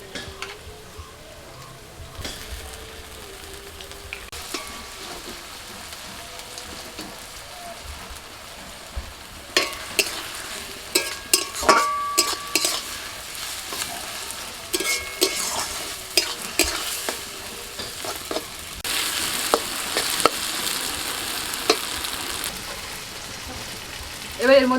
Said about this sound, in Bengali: পেঁয়াজটা ভাজা হয়ে গেছে, এবার এর মধ্যে আমি আদা রসুন বাটা দিয়ে দিচ্ছি